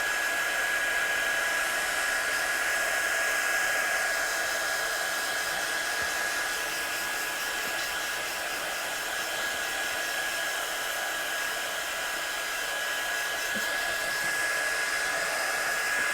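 Heat gun drying alcohol marker colouring on paper, an unbroken airy roar with a faint high whine, steady and close with no talk.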